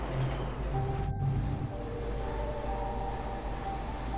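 A train runs in the colony-building video game Plan B: Terraform, a steady low rumble of rolling rail cars with faint tonal hums layered over it and no voices.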